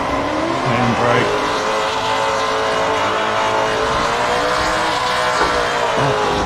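A drifting car in the Assetto Corsa racing game, played on a Logitech G920 wheel, gives a continuous loud engine drone with tire noise while the handbrake is pulled, and someone talks over it.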